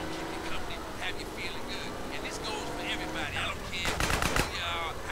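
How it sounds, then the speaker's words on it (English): Rapid bursts of automatic gunfire in GTA San Andreas, fired by construction workers, crackling over a steady engine drone, with a loud, dense volley near the end. "Who's shooting at me like that?"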